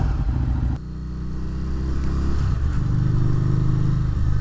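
A Harley-Davidson Street Rod 750 fitted with a Vance & Hines FP3 tuner rumbles through city driving, its engine note close and continuous, dipping briefly before building again with rising revs.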